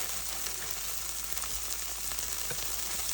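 A cheese tortilla quesadilla sizzling steadily in a hot pan, a close, constant crackling hiss with no voices.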